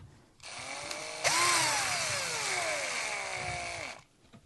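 A cordless power tool drives a screw into a pre-drilled hole, its motor whining steadily and rising in pitch under load for about three seconds before cutting off, loud and close with no talking.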